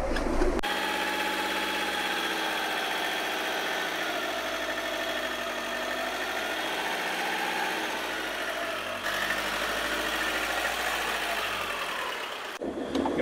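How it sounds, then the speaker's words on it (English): An old diesel car engine idles steadily for the whole stretch, a constant close rumble with no talk, while it waits on the glow plug to warm up. "It's a diesel. We have to wait for the glow plug to warm up the engine."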